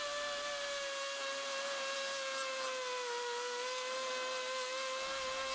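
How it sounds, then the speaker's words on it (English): An angle grinder grinding welds off a Cronkhite tilt-bed equipment trailer: a steady, high, whining drone that holds a constant pitch throughout, close and loud with no pauses and no talking. "We'll grind all these welds out."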